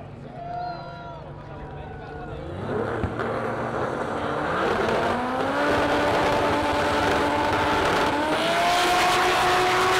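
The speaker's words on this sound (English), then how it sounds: "I think the GTI is gonna go." A Volkswagen GTI launches at a rowdy car meet, engine climbing sharply in pitch and roaring louder as it accelerates, with crowd voices and talk mixed throughout.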